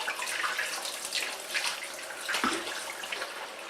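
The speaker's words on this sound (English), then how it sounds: "try and pour some water in there so it kind of gets wet throughout." Water from a tap poured into the inner leaves of a limp head of lettuce, a steady close splashing rush with brief gurgles, with no talk over it.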